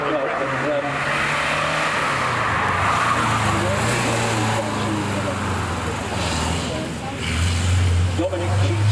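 A rally car at the Prescott Speed Hill Climb, its engine droning loudly and steadily with pitch shifts as it climbs, while voices talk over the noise.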